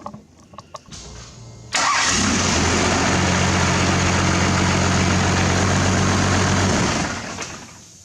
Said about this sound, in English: I am going to fire it up and make sure that everything is okay.